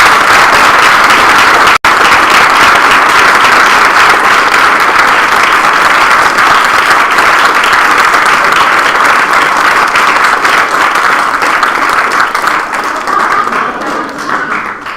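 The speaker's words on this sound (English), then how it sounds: "We definitely appreciate this applause and support." An awards ceremony audience gives loud, sustained applause for a coach of the year award, dense clapping that holds steady for the whole stretch and eases off only slightly at the end.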